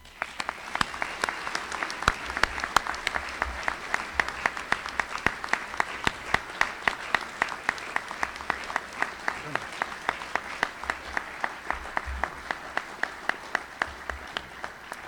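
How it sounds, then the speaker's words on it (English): Audience applause at a college presidential inauguration for Dr. Edward Raspiller, a steady crowd of clapping with distinct sharp claps standing out, sustained evenly for about fifteen seconds. "won't you now join me in giving Ted a round of applause?"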